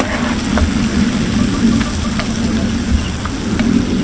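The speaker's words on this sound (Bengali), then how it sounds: "আমার বুন্দিয়াগুলো ভাজা হয়ে গেছে, এখন আমি" Boondi, small fried gram-flour drops, are lifted out of hot frying oil, giving a steady close sizzle with a few faint clicks and light scrapes throughout. No one speaks.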